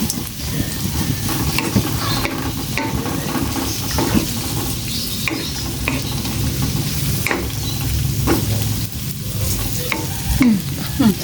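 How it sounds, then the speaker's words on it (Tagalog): Food frying in a pan, stirred and flipped over steady loud sizzling, with scattered scraping clatters of the utensil against the pan throughout. "Ibaliktad po natin or halu-haluin."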